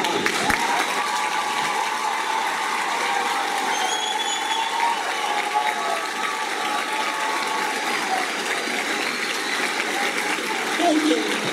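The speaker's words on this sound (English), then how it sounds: "if you will please join me in giving these students a round of applause" Applause for students at a high school graduation ceremony, a broad continuous hiss of many hands clapping in a large hall, steady and fairly loud, with a faint ringing tone and some murmuring in the background.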